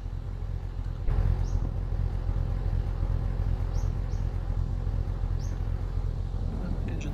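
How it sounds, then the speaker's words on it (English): A car engine in the video game The Long Drive runs steadily throughout, a low continuous rumble with a slight rise after the first second and a few faint high chirps scattered above it. "Engine's still running this time"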